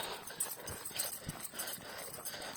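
Horse standing near a hut on a rural path after overnight rain, with soft hoof clip-clops and shuffling at close range over a faint outdoor background; no talking.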